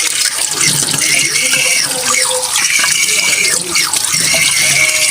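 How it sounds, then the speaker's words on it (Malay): A ladle and a pot lid are washed under a steadily running tap, with continuous close splashing and occasional clinks of metal throughout. "Basuh senduk, tudung periuk."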